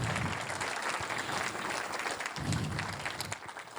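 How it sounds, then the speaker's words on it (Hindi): An audience applauds loudly and steadily at a Maha Shivratri gathering, a dense continuous patter of many hands clapping close by, with no talking over it. "जोरदार तालियां फिर से एक बार बजाएं इन सभी के लिए।"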